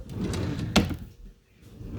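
A kitchen drawer is slid open or shut once with a single sharp knock over a low rolling rumble, close by, with no talk.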